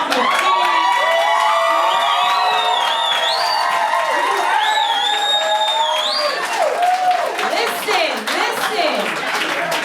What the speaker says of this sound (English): I need y'all to give her not only another round of applause, but whistle, stomp your feet.